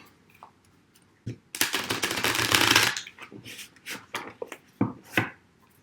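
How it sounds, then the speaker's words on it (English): Tarot cards shuffled close by: one crisp riffle burst of about a second and a half, then scattered soft taps and card handling in a quiet room with no talking. "So I'll start shuffling the tarot cards now"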